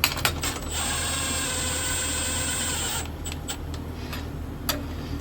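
Ratchet wrench snugging U-bolt nuts onto a truck axle during a 1953 Ford F100 Cummins build, a steady close mechanical clicking run for about three seconds, then a few sparse ticks and clanks.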